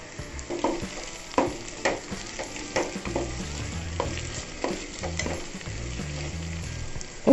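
Sliced onions sizzle in hot oil in a pan for chicken masala curry, a steady close frying hiss broken by clanks and scrapes of a spoon stirring against the pan.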